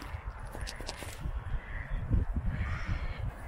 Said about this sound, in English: The birds are coming over.